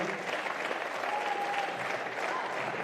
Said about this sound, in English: I'd just like to firstly have a big round of applause for Victoria Rotterdam for coming over here